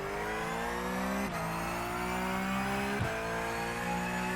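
An iRacing Porsche race car in a sim game holds a loud, steady engine drone with harmonic bands, and pitch drops twice as the car brakes hard, with no talk.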